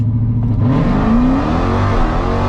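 A 1000 hp Jeep Trackhawk with an RSP tune launches from a 1500 RPM hold, its engine roaring loud and close with a rising whine as it pulls hard, with no talk over it.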